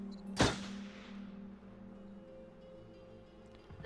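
A single sharp gunshot rings out early in Until Dawn, a bottle being shot at close range, its loud crack decaying into a steady low hum of game ambience.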